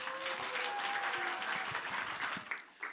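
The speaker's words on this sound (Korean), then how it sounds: "우리 목사님 나오실 때 큰 박수와 환영 우리 하면서 목사님 모시겠습니다." Audience at a church teachers' conference applauds to welcome the pastor, a dense and steady round of clapping that tapers off near the end, with a few faint voices and tones underneath.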